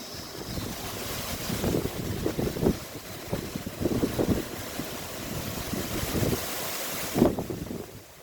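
Strong storm wind gusts buffet the microphone outdoors, rumbling and roaring in uneven surges with one sharp gust near the end, and nobody speaks.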